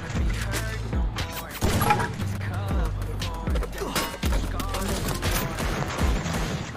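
Repeated heavy AWM sniper rifle shots ring out in a shooter game amid busy in-game action and music, several sharp blasts spread across the stretch.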